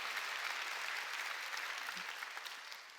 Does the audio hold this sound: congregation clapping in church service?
yes